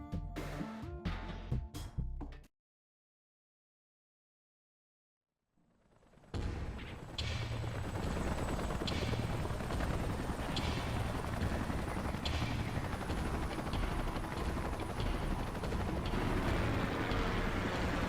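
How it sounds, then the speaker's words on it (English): Salvage helicopters arriving in the Xenoblade Chronicles X video game, a dense, loud, continuous rotor roar with thumping pulses that swells in after a short silence and holds steady, following a brief burst of game sound at the start. "Let's call in the salvage choppers and get it out of here."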